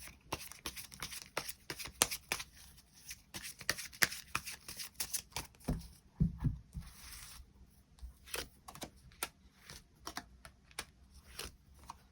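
Tarot cards being shuffled by hand, with close, quiet riffling and rapid soft slaps in irregular bursts, a brief pause midway, then more shuffling and light card handling.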